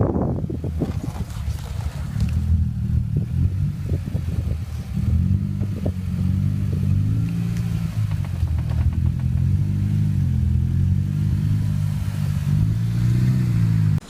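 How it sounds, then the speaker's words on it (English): A slammed, lowered Evo creeps up a driveway, its engine giving a steady low rumble with uneven revving, close and sustained. "here's a video of me trying to get my slammed Evo up my driveway"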